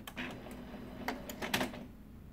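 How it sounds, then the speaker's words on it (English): An HP M351/M451 laser printer spins its pick rollers during fuser maintenance: a soft mechanical whir with several clicks and clacks over a steady low hum, heard up close with no talk. "you'll hear the printer spin the rollers"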